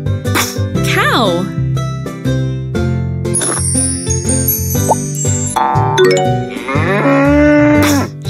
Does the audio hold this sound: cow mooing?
yes